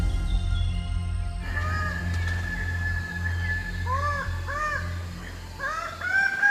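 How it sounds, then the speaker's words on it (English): Birds of paradise in Papua give repeated loud, rising, honking calls in short bursts over a steady low hum of the forest. "These are the birds of paradise."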